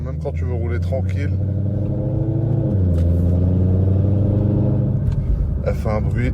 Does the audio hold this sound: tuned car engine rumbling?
yes